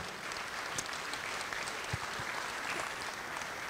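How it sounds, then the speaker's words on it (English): Audience at a men's and women's basketball tip-off reception claps in a steady, even wave of applause, close and sustained throughout with no voices on top. "Clap it up for them."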